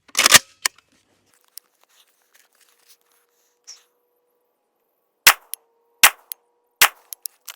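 Rifle fire while testing a Texas Weapon Systems Gen3 dust cover: a loud sharp crack opens, then after a quiet stretch with small clicks, three more sharp shots follow in quick succession, each ringing briefly with echo.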